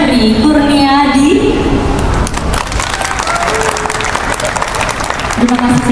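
An audience at an event applauds, a dense burst of clapping in the middle, while a speaker's voice is heard over the start and end.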